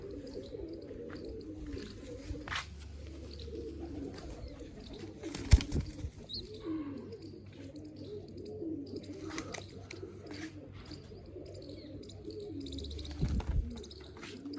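Pigeons in a loft of nesting boxes with young birds coo in a steady, low, continuous murmur throughout, with one sharp click partway through and occasional faint chirps.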